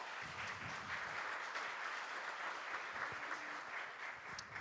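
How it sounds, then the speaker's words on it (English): Audience applause in a conference hall after a talk, a dense, even patter of many hands clapping, moderately distant and sustained for several seconds. "Thank you. And applause."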